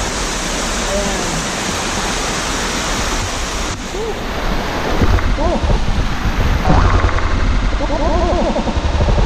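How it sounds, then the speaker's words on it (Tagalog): M'langen Falls in Maitum, Sarangani, a second waterfall, roaring as a loud, steady broadband rush of falling water close by, with a voice briefly audible over it. "Ito yung pangalawang falls."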